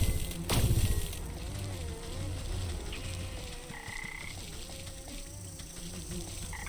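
Frogs croak steadily in a swamp in the video game Wytchwood, with insects buzzing and a faint patter, forming a continuous, moderately quiet ambient bed without talk.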